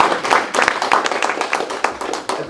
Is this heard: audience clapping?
yes